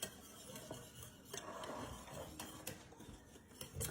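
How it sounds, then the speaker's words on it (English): Two cups of milk being whisked in a bowl, a quiet continuous swishing with light clinks of the whisk against the sides, no voices. "Giving that a whisk."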